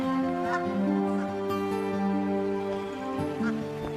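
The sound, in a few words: water birds honking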